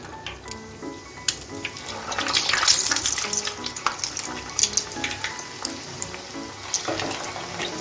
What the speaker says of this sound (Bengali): এখন আমি বাকিগুলো ভেজে নিচ্ছি।